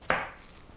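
A single sharp knife chop through a sulfurous onion, close and fairly loud, with the cut ringing briefly before fading into quiet room tone.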